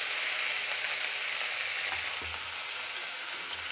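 Chopped tomatoes and curry leaves sizzle in hot oil for a dosa side, a steady loud hiss of frying close by with a few soft stirring knocks, no talking.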